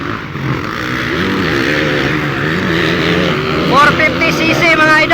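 450cc motocross motorcycles racing at a competition, engines whining and revving with shifting pitch while people shout excitedly close by.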